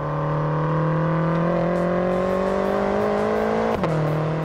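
A BMW M5 with 560 horsepower runs hard on a race track lap, its engine note droning loud and steady as the pitch rises gradually, then dropping sharply near the end as it lifts for a corner.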